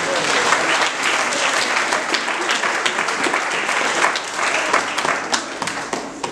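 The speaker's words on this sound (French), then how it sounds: "Comment on doit applaudir ce discours?" A church congregation claps loudly after a sermon, a dense, sustained burst of many hands close by, with a few voices mixed in.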